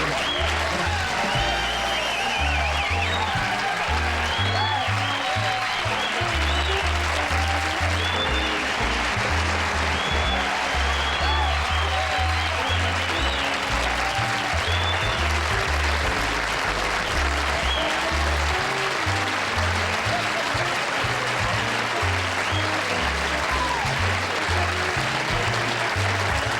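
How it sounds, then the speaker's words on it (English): Studio audience at a live New Year's Eve 1975 Johnny Carson show breaking into loud, sustained applause, a dense wall of clapping that holds steady throughout without fading. "I'm humbled by that applause."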